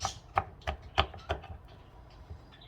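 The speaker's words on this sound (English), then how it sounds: "it's also good to have a fork and poke some little holes in there" A fork pokes holes in a whole eggplant, making about five light, evenly spaced taps on the skin, close and quiet.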